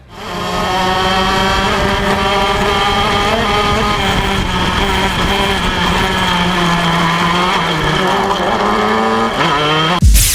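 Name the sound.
shifter kart racing engine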